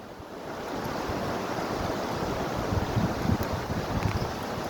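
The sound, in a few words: water waves around a boat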